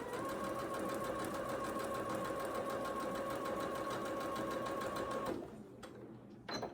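A domestic sewing machine with a 1/4 inch presser foot stitches quilt block fabric, a steady close mechanical whirr of rapid needle strokes that runs continuously for about five seconds before stopping, leaving faint handling clicks.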